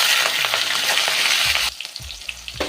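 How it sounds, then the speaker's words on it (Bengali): Rohu fish fries in hot mustard oil and ghee with whole spices, a loud continuous sizzle that abruptly drops to quieter crackling and a few soft clatters near the end. "এবার এই তেল আর ঘিতে মাছটা ভেজে নেব।"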